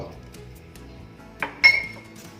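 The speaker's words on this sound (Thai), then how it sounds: "คลุกให้เข้ากัน" A rose apple flower salad with roasted coconut and peanuts is tossed in a bowl. Quiet soft rustling is followed by two sharp clinks of a utensil against the dish near the end, with faint talk under it.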